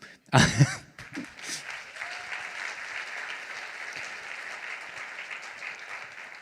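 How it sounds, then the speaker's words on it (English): An audience at a higher-education keynote claps in a sustained round of applause, with a loud burst near the start and a cough, then steady clapping continuing. "please applaud them because they might be a little nervous now"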